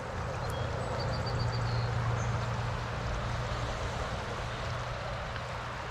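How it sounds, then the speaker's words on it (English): A spring-fed river stream flows with a steady, even rushing wash that never changes in level and has no distinct events. "Apparently these streams are spring fed."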